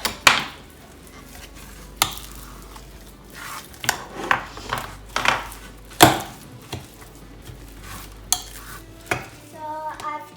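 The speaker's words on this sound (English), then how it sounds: "And finally we add up all the coriander and mix it up." A spoon scrapes and clatters in a bowl, mixing chopped coriander into spiced potato stuffing for aloo paratha, with repeated sharp knocks and scraping strokes in an irregular rhythm, close and clear, with no talking.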